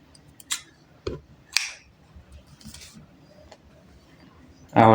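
A few sharp, separate snips of scissors cutting crochet yarn sound close and crisp, spaced irregularly over quiet room tone, with a louder clunk at the end.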